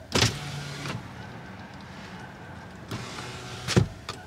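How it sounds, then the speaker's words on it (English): Reverse warning chime of a Nissan Leaf electric car, heard from inside the cabin as two soft tonal pulses about three seconds apart over a quiet background hum. "That's the backup sound."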